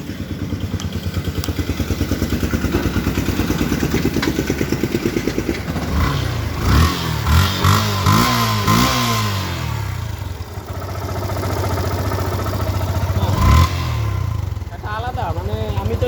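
A Yamaha FZS V2 motorcycle engine idles with a steady rumble, then revs up in several quick throttle blips before settling back to a loud idle; no talking.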